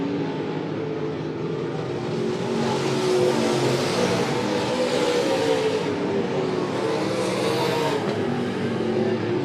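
Race cars circle the track at Monett Motor Speedway during a feature race, engines roaring steadily and loudly throughout, with a rising and falling drone as the machines pass and work through lap traffic.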